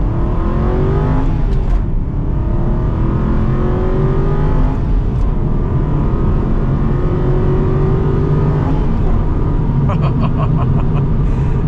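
A manual Aston Martin Vantage V8 accelerates from inside the cabin, its engine note climbing through the revs with a steady loud rumble and a shift partway through, while a voice can be heard talking over it.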